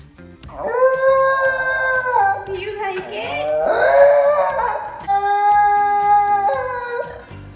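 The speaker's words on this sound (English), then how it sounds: "It's a high-pitched, intense scream that these fluffy little dogs let out when they're either really upset or super excited." A Shiba Inu dog lets out long, high-pitched wailing screams, rising and falling in several sustained bursts, loud and close, with a person briefly speaking.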